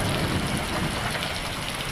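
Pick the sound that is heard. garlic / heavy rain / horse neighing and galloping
heavy rain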